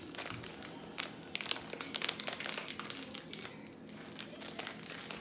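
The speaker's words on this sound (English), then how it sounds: "It comes in aluminum foil." Aluminum foil packaging crinkles and crumples during an unboxing, a close, busy run of crisp rustling bursts that rise and fall for several seconds with no talking.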